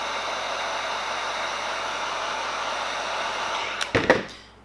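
A heat gun blows a steady, loud broadband hiss while warming vinyl accessory graphics on a Traxxas Slash body, with a few brief clicks and handling knocks near the end as it shuts off.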